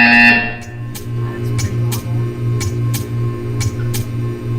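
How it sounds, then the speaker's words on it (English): A buzzer in the video game Portal 2 sounds as a series of evenly spaced, droning pulses over a steady electrical hum, close and clear with no talking. "You will hear a buzzer."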